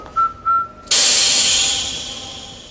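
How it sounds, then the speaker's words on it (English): Whistling keychain gadget from the James Bond film The Living Daylights: two short, clear whistle tones, then a sudden loud burst of gas hissing that holds steady and slowly fades, close and alone. "such as the whistling keychain from The Living Daylights"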